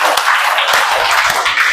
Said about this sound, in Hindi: अब आप लोग सब खुश हो तो सारे बच्चे कस के ताली बजाएंगे